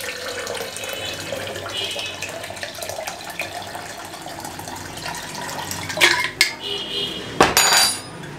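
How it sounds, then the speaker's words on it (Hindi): Cold water is poured into a lemonade mixture with lemon and mint in a kitchen, a steady splashing trickle with clinks of a utensil or container and a few sharp knocks toward the end, close and fairly loud. "ये ठंडा पानी, चिल जिसको कहते हैं इंग्लिश में, ये शामिल कर दें।"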